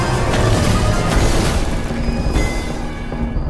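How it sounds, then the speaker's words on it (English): An explosive barrel blowing up in the video game Sword of Convallaria: a loud, dense boom with a rolling rumble that stays strong and slowly thins out. "Players can trigger these barrels by attacking them, creating explosions that deal AoE damage."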